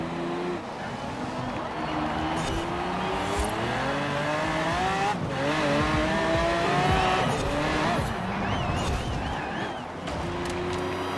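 A Chevelle Super Sport racing in Forza Horizon 4, its engine revving and rising in pitch through the gears with tire squeal during slides. The car roars continuously and loudly while a person talks over it.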